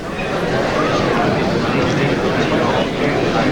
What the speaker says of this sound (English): A lot of oohs and ahs from the crowd here.